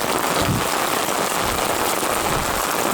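Heavy rain pours down steadily during a net-fishing outing, a dense, loud, unbroken hiss with no pauses or voices.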